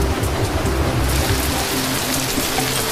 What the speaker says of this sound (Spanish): La lluvia cayó en las montañas del valle.